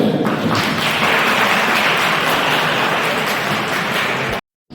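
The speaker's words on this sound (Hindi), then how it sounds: "सभी के लिए जोरदार ताली हो जाए" A crowd at a college youth festival run by NSS volunteers claps in loud, dense applause that holds steady for about four seconds before cutting off abruptly.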